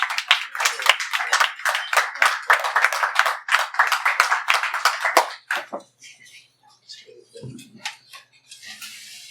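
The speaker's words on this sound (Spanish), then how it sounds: "Un aplauso para Guarro Art Café." Audience applause at a book presentation in Guarro Art Café, a café in Mexico City: dense, steady clapping for about five seconds that then fades into scattered claps and quiet room sound.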